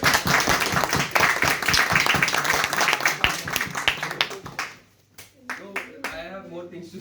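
A Toastmasters club audience claps for Toastmaster Raghav at a farewell ceremony, a dense burst of hand-clapping that fades out after a few seconds, followed by a few scattered claps and a voice talking.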